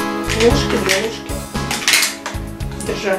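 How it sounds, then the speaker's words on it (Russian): Multicooker accessories, a plastic measuring cup and two spoons, clatter and knock together as they are handled, several sharp close clicks and taps in quick irregular succession. "Как обычно, стаканчик, ложки, две ложки,"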